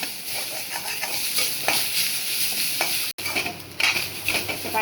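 Grated coconut fries in a little ghee in a pan, giving a steady sizzle broken by scraping stirs and light clinks of a spoon on metal. The sizzle drops out for a split second midway, and no one speaks.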